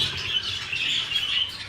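Pet birds in an aviary chirp and tweet together in a busy, high overlapping chatter, with a hint of fluttering wings, fairly close and steady throughout.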